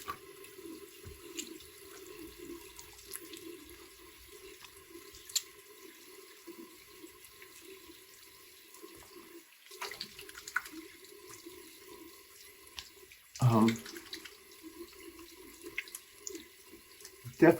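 Tap water running into a sink while rinsing after a safety razor shave, a faint steady stream with a louder splashing burst midway and small clinks, close and quiet.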